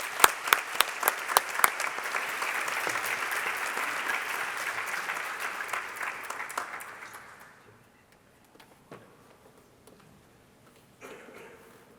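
Audience applause for Ambassador Dennis Ross at a synagogue gathering, a dense sustained clapping with sharp individual claps that fades out after about seven seconds, then near quiet with a few stray claps.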